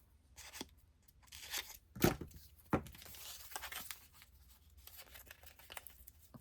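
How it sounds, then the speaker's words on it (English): Backing being peeled off a strip of craft tape during paper pad crafting, heard as a short, close ripping tear followed by crinkly rustling and a second brief tear, with no speech. "And I have this lovely tape. It's tape with backing even."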